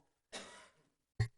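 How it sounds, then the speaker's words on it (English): A person coughs once at close range, a short harsh burst followed by a quieter second catch, during a public meeting in an otherwise quiet room. "anytime you hear anyone cough now, it's like, it's not the flu anymore"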